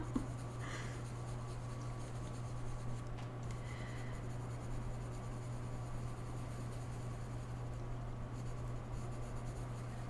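A colored pencil scratches across paper in a quiet room. The stroking is faint and steady over a constant low electrical hum, with no voices.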